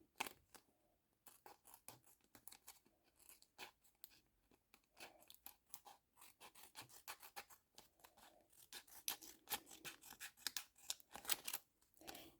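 Scissors snip through tape wrapped around a handmade paper chocolate bar, a dense run of quick close crunchy cuts that speeds up and grows louder toward the end, with no talking.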